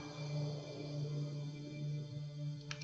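Calm ambient pad background made with the Morphin plugin, steady sustained low drone with shimmering upper tones, smooth and continuous, with a brief bright flicker near the end.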